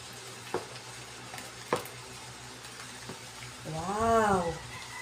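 Buko salad of young coconut being stirred in a bowl, with a few sharp utensil knocks over a steady soft mixing rustle, then a brief rising-and-falling vocal exclamation near the end.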